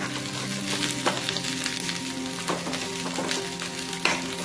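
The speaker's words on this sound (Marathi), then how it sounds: "आता आपण इथे जिरे टाकून घेऊया" Cumin seeds sizzling in hot oil for an egg curry, a steady close crackle and hiss with occasional stirring clinks, loud and continuous, with no talking.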